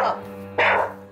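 A dog barks loudly near the microphone, with a sharp burst after a lower background sound and people's speech in the surroundings.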